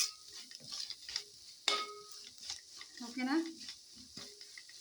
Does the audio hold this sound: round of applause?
no